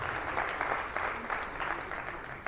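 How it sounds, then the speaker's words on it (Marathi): Audience applause at a felicitation ceremony, rhythmic clapping from a crowd at moderate loudness, slightly uneven and fading a little toward the end. "पुन्हा एकदा टाळ्या वाजवा ताईंसाठी।"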